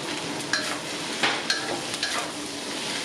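Glass noodles stir-fried with vegetables and dark soy sauce sizzle steadily in a hot pan, with a few sharp scrapes and clinks of the spatula breaking through the constant frying hiss.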